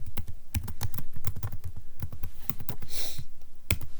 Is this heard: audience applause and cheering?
no